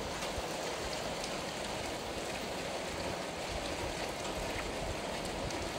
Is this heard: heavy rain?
yes